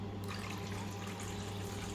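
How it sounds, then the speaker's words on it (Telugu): Water is poured into fresh curd and sugar to make lassi, a faint, steady stream that runs continuously, close and without any talking. "కొన్ని వాటర్ వేసుకొని"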